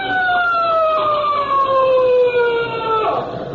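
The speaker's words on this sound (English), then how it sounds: "Hey, that's a police siren." A police siren in an old radio drama wails close and loud, its rising and falling tone sweeping for several seconds before dropping off near the end.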